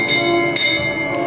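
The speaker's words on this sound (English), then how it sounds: "There goes the bell." Carousel bell at a park merry-go-round rings in a few bright, loud strikes with ringing overtones, the first two clear and a fainter third near the end, over a steady background hum.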